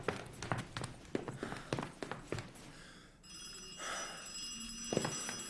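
In a video game, footsteps patter quickly, then a telephone bell rings steadily in the background, fairly faint, with a dull ambient hum underneath.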